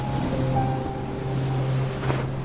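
Sea waves wash steadily below a cliff along the coast, a continuous broad surf rush with a low hum underneath and a slight swell near the end.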